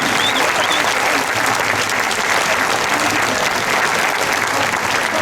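Steady, dense applause from a large crowd, loud and continuous throughout with no pauses.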